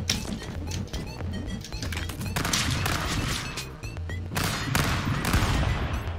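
Rapid laser shots crackle in dense, overlapping bursts during a Stick Fight video game match, loud and continuous throughout with no talk.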